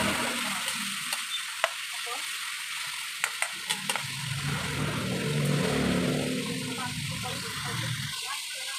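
Menudo sizzling and being stirred in a pan, a steady low frying hiss with a few sharp utensil clicks against the pan early on, growing slightly fuller midway before easing off.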